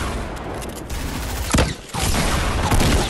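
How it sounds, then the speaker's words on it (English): Rocket hit in the Fortnite video game, loud chaotic gunfire and blasts with a sharp impact burst in the middle, dense and continuous. "I hit him with a rocket."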